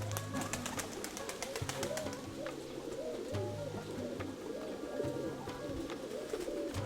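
A steel-grey spotted pigeon hen sitting on eggs coos repeatedly in low, soft rolling phrases close by, with other bird chirps and faint outdoor background around it.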